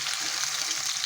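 Masala-coated fish pieces fry in hot oil in a pan, giving a dense, steady, close sizzle with faint shifting as the pieces are turned.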